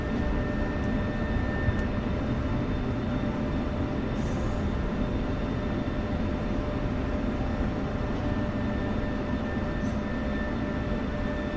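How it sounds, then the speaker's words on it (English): An F-16 Viper jet touches down and aerobrakes in a flight simulator game, making a loud, steady roar and rumble of engine and rolling noise that barely changes throughout. A few faint clicks sit under the roar. "Touchdown and aero braking."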